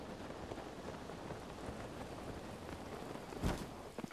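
Rain falls in the Zelda: Breath of the Wild video game as a steady, quiet broadband patter, with one brief louder burst near the end.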